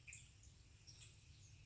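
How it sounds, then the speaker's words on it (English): Faint, brief bird chirps outdoors in a neighbor's yard, a few high thin calls scattered over quiet background hum. "You hear the birds?"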